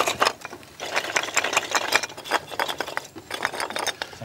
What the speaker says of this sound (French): quand l'eau coule, l'eau coule sur les roches, ça bouge et on entend le cliquetis des pierres